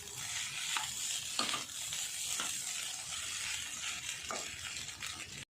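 Poha fries in ghee in a pan with a constant close sizzle for several seconds, punctuated by soft periodic scrapes as it is stirred, with no speech over it.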